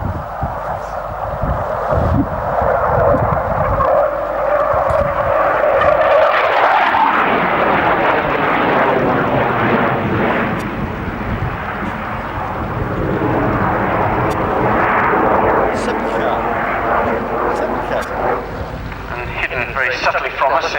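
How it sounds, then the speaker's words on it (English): A Super Etendard single-engine jet passes at an air show, a loud sustained roar with a rising, shifting whine that swells and broadens as the aircraft goes by, heard close and continuous. "including the Super Etendard, were all single-engine aircraft"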